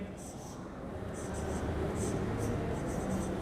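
Marker writing on a whiteboard, a series of faint squeaky strokes in short bursts over a steady background hum.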